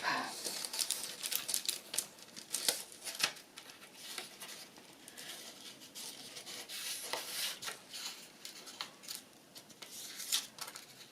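A paper envelope is folded and creased by hand, with soft crinkling rustles and rubbing swipes in irregular bursts, close and fairly quiet.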